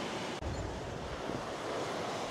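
Wind and waves rush steadily around a sailboat under sail in freshening breeze, a continuous loud broadband roar of surf and wind noise buffeting the microphone, with one brief dropout near the start.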